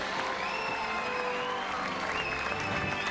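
A crowd of students claps steadily in the Hogwarts Legacy video game, a soft, even patter of applause heard from a short distance under faint ambient music tones.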